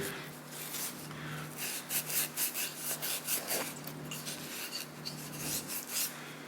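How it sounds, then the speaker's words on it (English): Scotch-Brite pad scrubbing dirt and grime off an old hammer, a close, rhythmic series of dry abrasive rubbing strokes repeating steadily with no talk. "just want to try a little bit of Scotch-Brite on here and see how that does"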